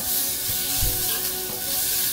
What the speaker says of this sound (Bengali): এবার এর মধ্যে আমি এরকম চামচে 2 চামচ মতো আদা রসুন বাটা দেবো